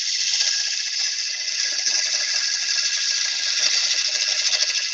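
A wood lathe turns a bowl while the tool cuts off short curly shavings. The scraping hiss is steady and continuous and stays close and loud for the whole stretch, with no talking.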